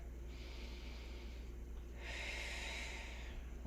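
Slow, deep breathing during a yoga stretch, a soft airy inhale followed by a longer, louder exhale, close and quiet with no talk.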